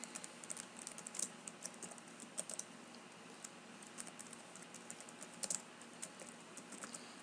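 Steady typing on a computer keyboard while entering text into a Microsoft Word document, with many quiet, irregular key clicks across the whole stretch at a faint level and no voices.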